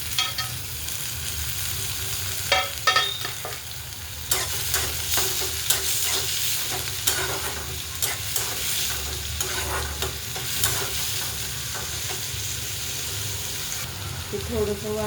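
Tomatoes hit hot oil with coriander in a pan, sizzling and frying steadily while a spoon stirs with repeated scraping taps across the pan.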